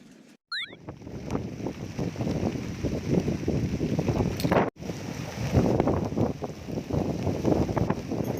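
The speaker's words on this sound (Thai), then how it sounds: "ฝนมาหนักมาก แล้วก็ลมแรงมากเลย" Heavy rain and strong wind beside a natural canal in Ban Phaeo create a loud, continuous hiss with gusty buffeting close to the microphone, broken by a brief dropout.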